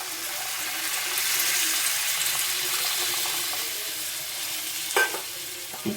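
Water is poured into a pan of chela fish curry with frying potatoes, a loud, steady sizzling hiss that swells and holds, ending with a couple of brief utensil clinks.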